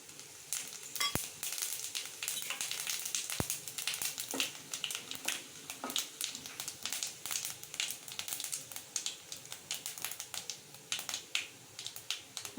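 Whole spices (cinnamon, bay leaf, star anise, cardamom, cloves and fennel) frying in hot oil, giving a soft continuous sizzle sprinkled with sharp crackling pops.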